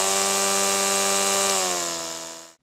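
An EGO Powerload cordless string trimmer on its low-speed setting: a steady, close motor hum that drops in pitch midway, then winds down quickly and cuts to silence.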